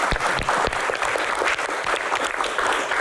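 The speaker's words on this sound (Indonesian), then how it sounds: "Tepuk tangan." Audience at an Indonesian ministerial Q&A event applauding steadily and loudly, a dense wash of clapping hands sustained throughout without pause.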